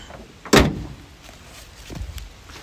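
A single solid thud of the rear door of a 2017 Nissan Navara closing near the microphone, followed by a fainter knock about a second and a half later.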